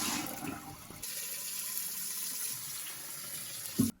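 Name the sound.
draining water from soaked rice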